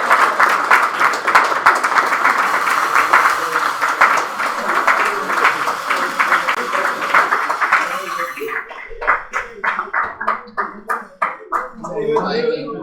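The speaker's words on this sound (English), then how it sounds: "give them a good round of applause and Grogers" Audience applause after a children's Purim play, a dense, loud wash of clapping that breaks off into scattered individual claps and a few voices near the end; no distinct grogger rattle stands out.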